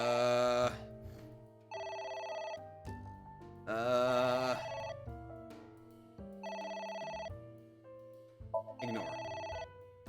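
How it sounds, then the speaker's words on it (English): A phone in the game AI: The Somnium Files rings with a loud melodic electronic ringtone, repeating bursts of bright chiming tones over about ten seconds with short gaps between them. "Phone. Should I pick it up?"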